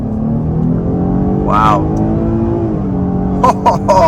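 A 2024 Chevy Blazer 3LT V6 accelerates at full throttle, a steady, climbing engine drone heard from inside the cabin with a gear shift midway, under a short exclamation and brief speech.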